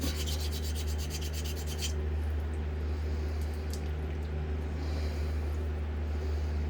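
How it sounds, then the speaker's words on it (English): A straight razor spine rubs against a coarse honing plate in rapid back-and-forth strokes for about two seconds, followed by a steady low abrasive rasp and an occasional faint scrape over a constant low hum. "I'm going to purposely scuff the spine a little while holding it flat."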